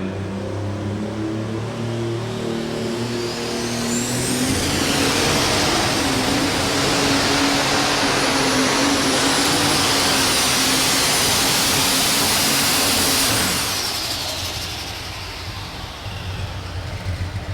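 A 2003 alcohol-fueled Super Stock pulling tractor engine roars steadily for several seconds at a tractor pull in Louisville, Kentucky, rising in pitch as it strains under load, then drops off near the end; no talking.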